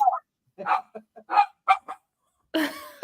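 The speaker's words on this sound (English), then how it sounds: "She don't even know what she's barking at" Several short dog barks in a loose, uneven sequence, fairly close, followed by a longer louder bark or yelp at the end.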